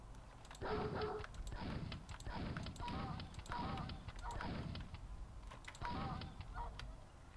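Dogs bark in a Quake map, a pack of several overlapping yelps and barks that come in repeated bursts over a constant hum. The barking is close and fairly loud, and nobody speaks.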